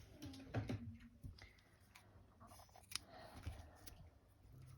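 Scissors snipping rope for a handmade crochet bag, with a few faint, close cutting crunches and small handling noises in a quiet room.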